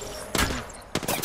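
Bursts of gunfire in Apex Legends, a short volley followed by a second close burst about half a second later, loud against a quiet background.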